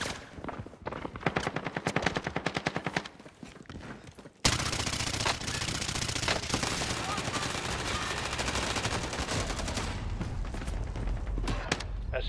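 Rapid submachine gun fire in a video game crackles in dense bursts, with a broken opening stretch followed by a loud, sustained barrage of shots running to the end, with no talk over it.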